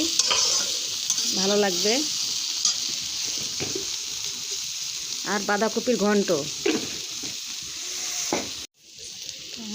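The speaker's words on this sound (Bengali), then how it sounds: "সয়াবিনটাকে একটু সিদ্ধ করে নিয়েছি আর এখন আলু কপির সঙ্গে ভেজে নিব" Boiled soybean chunks fry with potato and cauliflower in a pan, a continuous close sizzle with stirring scrapes while someone talks over it, then a sudden brief drop near the end.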